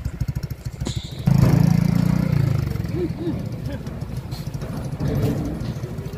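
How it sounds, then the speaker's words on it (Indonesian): A motorcycle ridden by children crosses the Cakura pedestrian suspension footbridge, its mid-pitched engine swelling loud and close for a few seconds amid clattering deck noise, then settling into a steadier rumble. "ini ada anak-anak yang naik motor"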